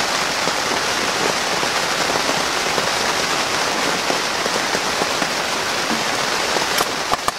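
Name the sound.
rain falling outdoors in a vegetable garden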